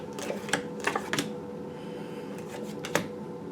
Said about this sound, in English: A card fell out while I was shuffling.